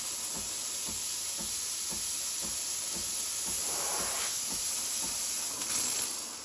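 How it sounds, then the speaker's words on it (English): Breville Barista Express BES870 steam wand steaming milk in a jug: a steady loud hiss throughout with faint rhythmic ticking beneath, the tone brightening slightly midway before easing off at the end. "There we go, starting to steam properly now."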